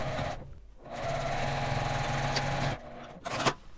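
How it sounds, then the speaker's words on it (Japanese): A sewing machine whirs steadily as it stitches the turning opening of a fabric makeup pouch closed, a continuous mechanical buzz that stops briefly, restarts, then halts with a few clicks. "返し口のところをこのように閉じてミシンで縫います。"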